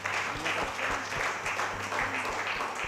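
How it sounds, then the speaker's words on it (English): Audience at a university research conference clapping for the presenters, a steady, fairly faint patter of many hands with a low hum underneath. "So can we clap for all our presenters?"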